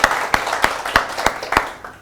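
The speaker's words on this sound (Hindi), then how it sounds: "एक बार जोरदार तालियां हो राघवेंद्र जी के लिए" A television debate studio audience claps for a political guest, a short run of about seven sharp, evenly spaced claps in a brisk steady rhythm, loud and close, with no voices over them.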